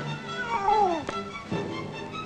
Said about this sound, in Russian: Опять черная кошка?